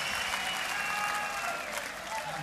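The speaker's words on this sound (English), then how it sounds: "I just wanted to get you clapping" A dense wash of applause from a rock concert crowd in Germany, many hands clapping continuously and loudly with a few thin whistle-like tones cutting through the roar.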